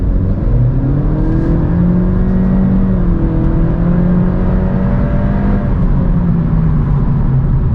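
A 2022 Honda Civic Touring accelerates steadily out of a U-turn, its engine note climbing and droning continuously from inside the cabin with no talking.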